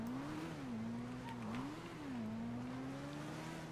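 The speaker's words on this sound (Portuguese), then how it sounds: "Peraí, acho que eu ouvi o carro dele aqui, ó." Steady car engine hum in a GTA street scene, holding a continuous drone with gentle rises and dips in pitch as the motor revs slightly, close and fairly loud throughout, with no talking.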